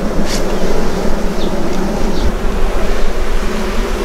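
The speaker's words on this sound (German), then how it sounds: "hier sind die Bienen am Honigraum" Honeybees swarm over the honey super of an open beehive with capped honey, giving a loud, dense, continuous buzz close by and alone, with faint passing whines of individual bees.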